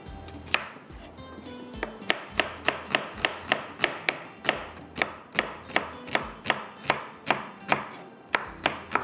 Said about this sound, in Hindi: मैं इसको प्याज को कटिंग कर लेती हूँ।